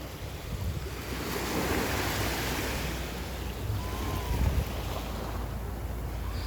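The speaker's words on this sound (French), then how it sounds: "Ça remonte à cause des vagues." Sea waves wash and rush continuously nearby, a broad hissing surf with gentle swells, mixed with light wind noise on the microphone.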